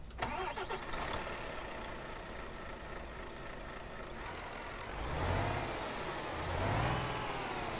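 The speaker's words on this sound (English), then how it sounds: "Now let's start her up and see what engine sounds we have." A Mack Titan truck engine in Euro Truck Simulator 2 cranks and turns over, then settles into a steady rumbling idle with a couple of swelling revs toward the end.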